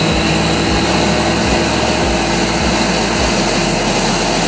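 A Honda Click 125 V3 scooter engine roars loudly and continuously while accelerating, revving steadily close by with a rough, droning rumble.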